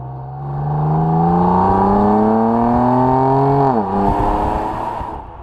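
A 2015 BMW M3 sedan engine revs steadily upward, then drops sharply on a downshift with a quick throttle blip before settling, loud and close with no talking.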